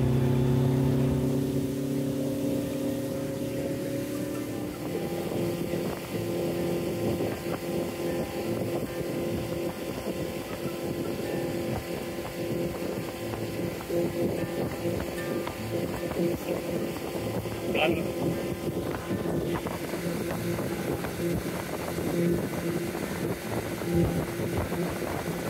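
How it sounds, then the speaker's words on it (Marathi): Motorboat ride on water in Kerala, a steady engine drone with water rush and wind buffeting the microphone, continuous and close throughout. "सो आमचं झालं आहे बोटिंग करून."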